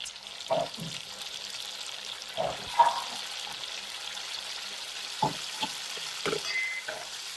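Onion with ginger-garlic paste sautés in a pan for a jackfruit bhaji, a soft continuous sizzle with a handful of louder utensil knocks and scrapes spread across it.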